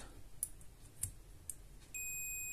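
A DT700D digital multimeter in continuity test mode gives a steady high-pitched beep that starts suddenly and holds to the end, after a few faint clicks from the probes touching.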